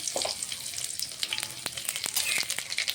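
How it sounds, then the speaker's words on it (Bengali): Dried chilli and black cumin sizzle in hot mustard oil as a tempering for greens with prawns, giving a close, steady crackling fry with sharp pops scattered throughout. "ফোড়নে দেবো, দিয়ে দিয়েছি সর্ষের তেল"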